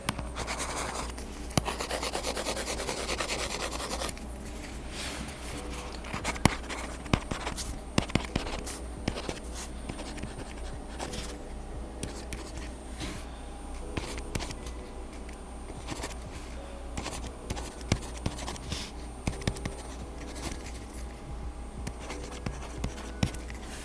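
A stylus scratches and rubs steadily across the paper-like textured film of a Penstar eNote e-ink tablet, close and fairly quiet, with continuous fine scraping broken by small taps and pauses between strokes.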